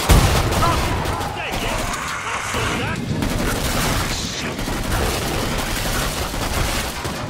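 Gunfire from the zombie shooter Killing Floor 2 rattles through the whole stretch, dense bursts of shots and booms layered with game noise, loud and continuous.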